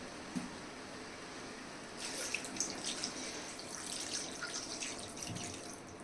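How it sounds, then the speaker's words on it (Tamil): Water pours into a pan of spicy South Indian pepper chicken, a soft steady trickle that swells slightly partway through, with no talking over it. "இனி நம்ம இப்போ தேவையான அளவு தண்ணி ஊற்றிக்கலாம்"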